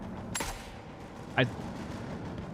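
Two sharp rifle shots from the video game The Forever Winter, a loud broadband crack near the start and a shorter, fainter report about a second later, over steady low background noise.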